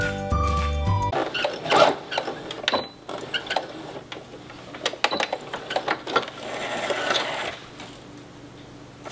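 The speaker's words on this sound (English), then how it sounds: "the whole time I sew I'm going to pull straight and then sew and then pull straight and then sew" A sewing machine stitches shirring rows on a top or dress, running in short bursts with brief pauses as the fabric is pulled straight between passes.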